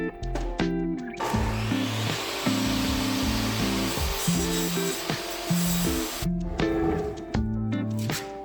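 A power saw cuts boards for wooden garden boxes, a steady loud whine with broadband cutting noise that runs for several seconds, starting and ending with the motor spinning alone.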